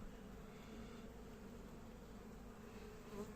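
A faint, steady buzzing drone of many honeybees, continuous and even, heard up close in a hive during a January inspection.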